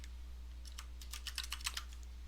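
Quick bursts of keystrokes on a computer keyboard as a git diff command is entered, clicky and close over a low steady hum, no speech.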